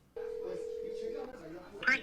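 A single long touch-tone beep from a phone being dialled, steady and moderately loud for about a second, followed by a faint voice and a brief burst of noise.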